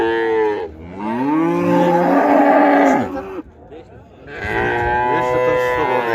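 A dairy cow with a young calf moos at a busy livestock market, giving two long, loud, low calls separated by a brief pause, with market chatter faintly in the background.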